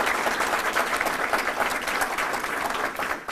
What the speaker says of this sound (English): Let's give another round of applause here.